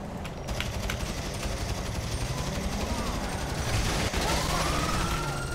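Gunfire bursts in GTA V Online erupt under a busy game soundscape, with rapid shots blending into steady background noise and faint siren-like tones sweeping past.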